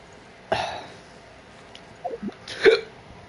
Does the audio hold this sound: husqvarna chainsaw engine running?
no